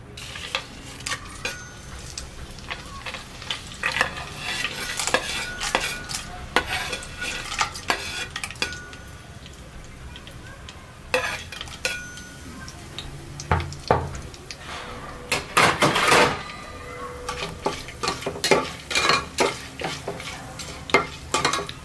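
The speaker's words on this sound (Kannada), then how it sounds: "ಫ್ರೈ ಆಗಬೇಕು. ಸಿಡಿಯುತ್ತೆ, ಸಿಡಿತಾ ಇದೆ ಎಲ್ಲ." Onion, tomato and coconut puree with mint frying in a pan, sputtering and crackling steadily while a utensil stirs and scrapes, with sharp bursts of popping throughout.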